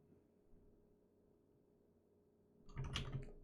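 A brief burst of computer keyboard typing, a quick cluster of close clicking keystrokes after near silence, lasting under a second at the end.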